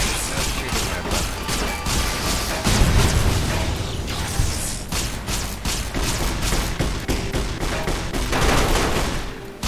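Gunfire in the video game Fallout New Vegas rattles in repeated sharp shots and bursts, with a heavier booming hit partway through and mechanical clatter between volleys.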